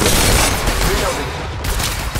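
Gunfire from the mobile battle royale game Apex Legends Mobile, a dense, loud burst of overlapping shots and booms that fills the whole moment with steady intensity.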